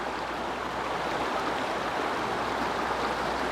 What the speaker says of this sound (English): You can hear the sound of the river